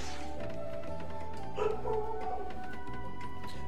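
A dog whimpers and yips in Naruto: Ultimate Ninja Storm, a short whining burst mid-clip over continuous game music and ambience.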